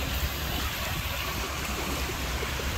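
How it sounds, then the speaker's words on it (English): Continuous rushing, churning water with a low rumble beneath as a car drives through floodwater in a Florida neighborhood; steady and fairly loud, no talking. "he's driving through the water"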